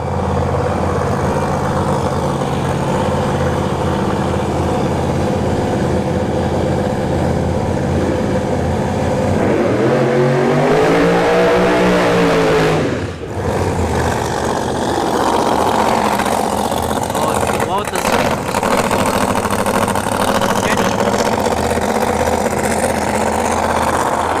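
Loud, rough engine of a ProCharger-supercharged Camaro drag car idling nearby at a drag strip, rising in a revving sweep midway before settling back to a heavy, continuous rumble.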